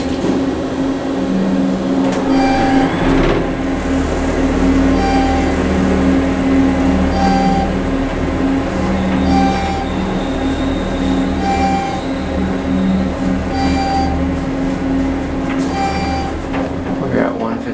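A Westinghouse traction elevator in a San Mateo office building runs between floors with a steady low rumble, rising whirs and periodic tonal hums and clicks, while people talk quietly nearby.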